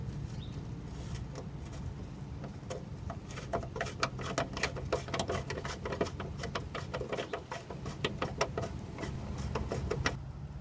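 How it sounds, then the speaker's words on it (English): Ratcheting and clicking of a socket wrench loosening half-inch nuts on a Jeep Wrangler TJ fuel tank during a fuel pump replacement, a steady run of close, sharp metallic ticks in bursts with no talking. "we're going to start by removing these 1/2-inch nuts"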